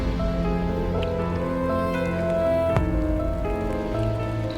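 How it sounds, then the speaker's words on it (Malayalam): Steady rain falls in a dense, even hiss with a constant patter, forming a continuous wash of sound without pauses. "മഴയുണ്ട്, മഴയുള്ളണ്ട"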